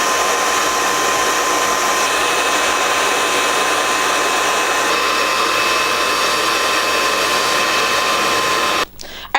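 Hair dryer blowing on a pre-plucked full lace glueless wig, a loud steady close whoosh that runs throughout, then cuts off abruptly near the end with a brief clatter.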